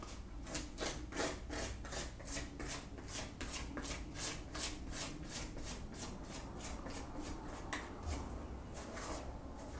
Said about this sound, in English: Scrape down my sides.